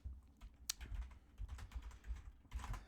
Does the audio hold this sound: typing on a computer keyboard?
yes